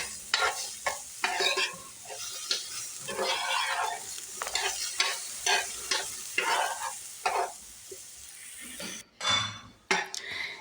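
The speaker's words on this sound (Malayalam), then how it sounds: "നമ്മൾ ഈ ഒരു നേന്ത്രപ്പഴം ഇതുപോലെ ചെറുതായി കട്ട് ചെയ്തിട്ട് ഒന്ന് നമുക്ക് വഴറ്റിയെടുക്കാം" Chopped nendran banana sautés in a pan toward brown for a laddu, with repeated scraping and clattering of a utensil against the pan over a light sizzle, close and fairly loud.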